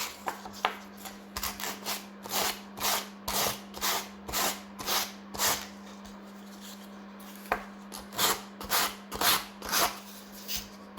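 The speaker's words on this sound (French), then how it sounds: "comme pour les grappes plastiques, un petit coup de ponçage, ça fait pas de mal." Hand sanding a plastic model part for a scale freight wagon build, a quiet series of rhythmic rasping strokes, roughly two per second, with a brief pause midway over a low steady hum.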